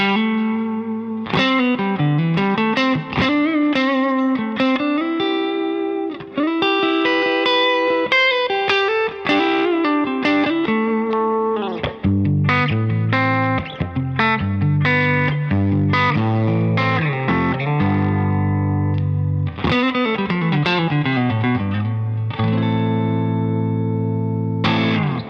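An electric guitar plays an open, well-balanced clean tone, a continuous run of picked notes and chords with clear attacks and a smooth, even treble, close and loud with no talking.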